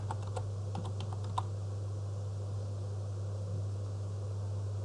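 Keys on a computer keyboard are struck in a short quick flurry of clicks over a constant low electrical hum, then the typing stops and only the hum and a faint hiss remain.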